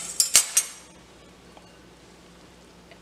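Chopped cabbage, capsicum and onion tipped into a bowl with a quick burst of three bright clinks of a utensil against the bowl, then near quiet and one last faint knock.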